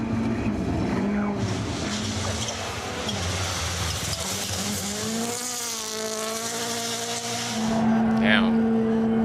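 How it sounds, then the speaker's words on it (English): A BMW rally car slides on gravel at Rally Latvia, its engine roaring loudly and steadily with rising revs and tyre scrabble, spectators talking underneath. "he just sliding on it. Yeah, a little BMW in action."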